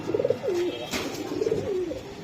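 A male Giribaj Chila pigeon coos close by, two rolling coo phrases about a second apart, clear and alone with no talking.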